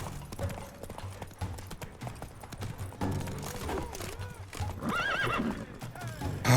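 In the Witcher 3: Blood and Wine video game, a horse's hooves clop in a steady rhythm under combat noise. A horse then whinnies loudly twice, the second call longer and stronger, and faint voices sound in the background.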